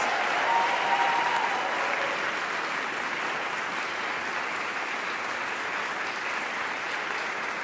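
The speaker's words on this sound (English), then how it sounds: "Just let's give them all another round of applause for everything they do for us." Steady, dense applause from a large audience at an opening convocation ceremony in a hall, sustained at even loudness for the whole stretch with no talk over it.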